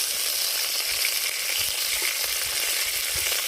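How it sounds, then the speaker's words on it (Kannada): Mustard seeds and curry leaves sizzling in hot oil for a tempering, a soft steady hiss with scattered small pops and crackles, fairly quiet and without talk. "ಸಾಸಿವೆ ಸಿಡ್ದು ಇದಾಕಿದ್ರೆ ಸಾಕು. ಎಣ್ಣೆ ಬಿಸಿ ಆಗುತ್ತೆ, ಸಾಸಿವೆ ಎಣ್ಣೆ ಬಿಸಿ ಆಯ್ತು"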